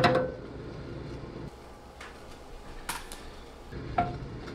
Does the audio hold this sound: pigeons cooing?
no